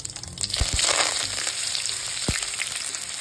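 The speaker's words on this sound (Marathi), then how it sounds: "मोहरी टाकून घ्यायची, जिरे टाकायचे, वाटताना पण टाकले होते आपण, आणि कांदा आणि कढीपत्ता एकत्र टाकते म्हणजे जास्त उडत नाही" Chopped onion and curry leaves dropped into hot oil with mustard seeds and cumin, giving a bright, steady sizzle with a few sharp crackles and pops, close up and with no voices.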